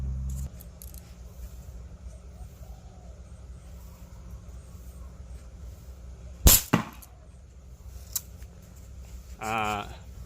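An S7 crossbow fires a bolt at a target about seven meters away: one sharp snapping release followed quickly by a thudding impact, then a small click, with a brief voice near the end.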